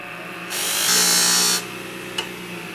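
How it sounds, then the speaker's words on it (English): A power polisher runs at full speed against the blade of a 7 inch beauty shear during sharpening, a loud steady whir lasting about a second with a brief click afterward, no talking. "I'm going to polish this full speed."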